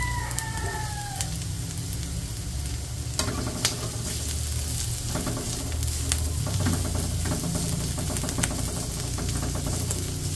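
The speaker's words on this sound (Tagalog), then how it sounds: "Lalagay na rin po natin agad yung bawang." Garlic and ginger sizzle in hot frying oil with a dense, continuous crackle. Occasional stirring clatters through it, and a rooster crows faintly nearby at the start.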